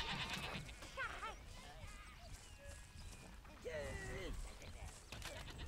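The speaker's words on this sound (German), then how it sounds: "komm, mach die Schafe auch noch alle fertig" Several bleating sheep cries in the video game Overlord ring out over a person's chatter, with a couple of louder, wavering bleats near the end.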